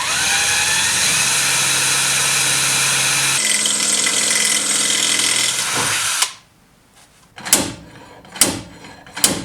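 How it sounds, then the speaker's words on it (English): A power drill runs steadily for about six seconds while boring holes into a dented car body panel on a Toyota MR2. After it cuts off, a few short, sharp clunks and bumps follow. "now I'm going to try drilling smaller holes either side and pulling on them"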